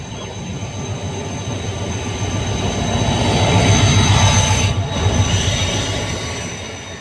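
The Jaffar Express passenger train pulls into a railway station with a loud, continuous rail rumble that swells as it passes close by, while thin wheel squeal rings steadily above it.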